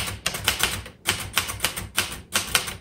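Typing on a 1966 Royal Safari vintage manual typewriter: quick, close clacking keystrokes in steady bursts, with brief pauses between runs of keys.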